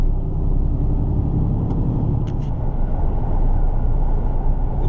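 A car on the motorway, heard from inside, gives a loud steady rumble of engine and road noise that stays constant throughout.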